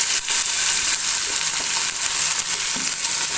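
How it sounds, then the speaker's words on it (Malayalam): Small sardines frying in hot oil in a pan, an even, continuous loud sizzle with scattered pops and crackles, heard alone without speech. "കുറച്ച് കഴിഞ്ഞിട്ട് നമുക്കൊന്ന് മറിച്ചിട്ട് അങ്ങനെ മീനൊക്കെ വറുത്തെടുക്കാം"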